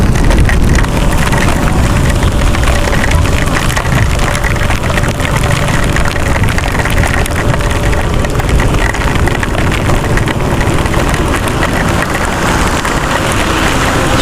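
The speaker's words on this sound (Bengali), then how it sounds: "বৃষ্টির ফোঁটা তো পড়তেছে না, সে একটা গুলি লাগতেছে এত বড় বড়" Heavy rain, with very large drops, pours down dense and steady over a road during a motorbike ride, producing a constant loud hiss and roar mixed with wind and engine noise, without a break.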